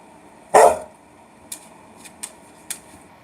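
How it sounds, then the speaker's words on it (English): A dog lets out one loud, close bark, followed by a few faint, brief knocks or taps in an otherwise quiet indoor room. "don't bark at me"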